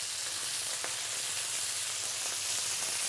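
Strips of pork neck sizzle in a very hot pan, a steady close crackling hiss with small pops, loud and continuous with no talking over it.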